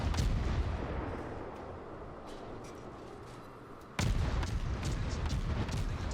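Destroyer guns firing in the naval combat video game World of Warships, heavy booming salvos with a decaying rumble, a quieter stretch, then another loud blast.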